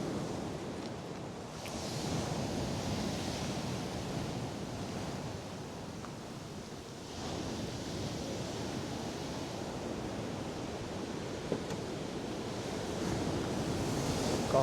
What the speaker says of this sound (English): Gotta love the lively sea